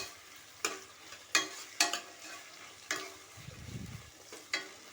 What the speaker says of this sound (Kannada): ಈಗ ಹಾಕಿರ್ತಕ್ಕಂಥ ತರಕಾರಿ ಎಲ್ಲ ಚೆನ್ನಾಗಿ ಫ್ರೈ ಆಗಲಿ ಎಣ್ಣೆಯಲ್ಲಿ